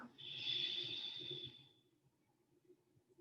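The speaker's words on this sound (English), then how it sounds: "closing the mouth this time, exhale through the nose" A single slow exhale through the nose during a group fitness breathing exercise gives a soft, airy hiss that swells and fades over about two seconds, close and quiet, followed by faint low background murmur.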